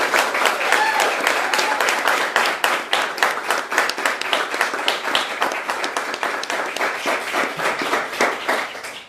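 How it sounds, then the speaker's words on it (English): Loud, steady applause from a crowd at a police swearing-in ceremony for three new officers in New Bedford, dense rapid clapping sustained throughout and tapering slightly at the end. "Round of applause."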